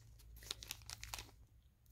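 A plastic bag holding a turquoise stone crinkles and rustles in short irregular bursts, faint and close, with no talking.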